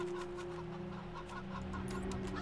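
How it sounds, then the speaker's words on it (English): Cyborg chicken in Wasteland 3 clucking steadily at close range over a constant low game hum, with soft repeated bumps, no voices. "Cyborg chicken. Oblivious to your presence, the chicken runs itself at the wall repeatedly."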